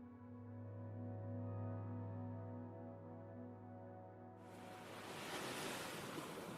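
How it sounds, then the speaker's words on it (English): Mediterranean sea waves crashing on the French Riviera shore, a low steady hum giving way to a loud, broad rush of surf and spray near the end. "Waves crash like cymbals in a symphony of raw energy."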